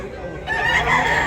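Fighting cocks at a street market in Tabunok, Cebu, with a rooster crowing loud and close, a steady rising call over a busy background of other birds and crowd noise.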